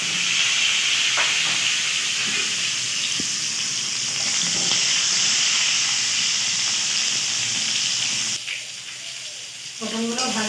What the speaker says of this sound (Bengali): কড়াইয়ে পটলগুলো দিয়ে ভালো করে ভেজে তুলে নেব।